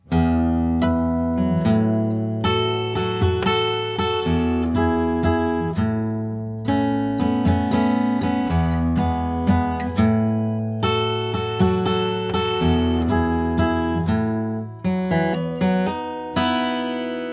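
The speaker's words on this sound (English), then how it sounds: "we're going to play that hammer-on lick that's in the verse." A guitar plays a repeating riff with quick hammered-on notes, steady and clear, with bright plucked attacks and chords ringing between phrases, no voices.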